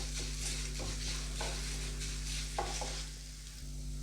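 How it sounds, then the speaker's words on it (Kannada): Three spoons of coriander seeds fry lightly in a pan for vangibath gojju, giving a steady soft sizzle under a low hum, with a few stirring scrapes and no talk. "3 ಸ್ಪೂನ್ ಧನಿಯಾ. ಇದು ಲೈಟಾಗಿ ಫ್ರೈ ಆಗಲಿ."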